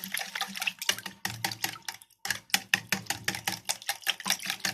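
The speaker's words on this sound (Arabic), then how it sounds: "فتحنا ال3 بيضات على اللبن، نقلبهم تقليبه" Rapid rhythmic whisking of three eggs into milk in a bowl for crepe batter, quick sloshing strokes in bursts with a brief pause midway, close and fairly loud.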